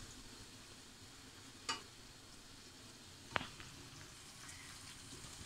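Chicken pieces fry in a pan over raised heat for a rice bowl, a steady soft sizzle close by with a couple of sharp clinks of a utensil.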